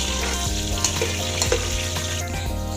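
Onion frying in oil in a pot for an African chicken stew, a steady close sizzle with soft stirring scrapes and occasional light clicks, no talk.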